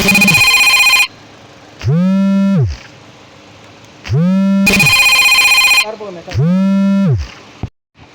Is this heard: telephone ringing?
yes